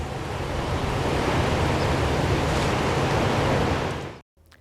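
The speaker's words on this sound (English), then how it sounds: "The storm that passed through created a large swell that's generated very big waves here at Pacific State Beach." Big storm-swell ocean waves roar steadily at Pacific State Beach, a loud, dense wash of surf that holds near-constant for about four seconds, then cuts off abruptly.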